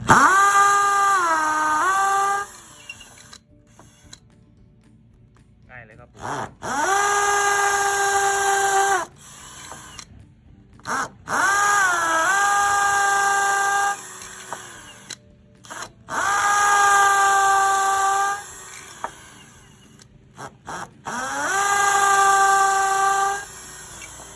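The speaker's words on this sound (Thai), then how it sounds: "ต่อไปเรามาลองเจาะ อิฐมวลเบากันดูนะครับ อิฐมวลเบานะครับ ใช้หมดกระแทกเหมือนเดิมครับ" A cordless impact drill with a hammer bit whines in five long bursts of several seconds each, separated by short pauses, close and loud, as it drills into lightweight concrete brick.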